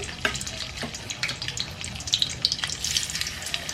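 Tofu frying in hot oil in a pan until golden brown, a steady close crackling sizzle with scattered sharp pops and faint kitchen clatter, no voices.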